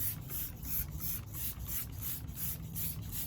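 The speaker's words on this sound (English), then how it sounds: "we're going to go ahead and use this Meguiar's aluminum wheel cleaner. Spray this in here." Meguiar's aluminum wheel cleaner is sprayed onto the wheels of a Nissan Titan truck in a quick series of faint, evenly spaced trigger-spray hisses, close by and with no talking.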